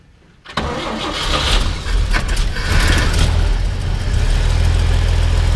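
An old 1959 Chevrolet Model 1305 engine cranks and catches, then runs on choke, loud and close with a rough, slightly uneven rumble as the idle rises and settles.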